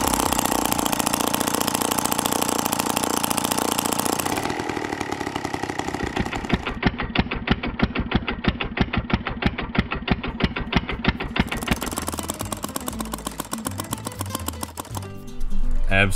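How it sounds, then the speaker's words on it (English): A homemade two-stroke engine built from hardware-store parts runs outdoors, first at a harsh fast roar and then settling into a loud, rapid, evenly spaced popping idle before revving again. "So it runs and it idles pretty happily."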